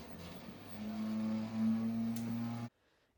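An old family desktop PC with its case not fitted properly gives off a loud, steady mechanical whir and hum with a droning tone, close by and continuous until it cuts out abruptly near the end, with no talking.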